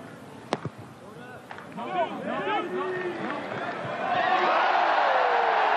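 Rugby stadium crowd at Estadio do Restelo during a Portugal versus Spain semi-final. Scattered shouts and murmurs swell into a loud, sustained cheer, with a commentator talking over it.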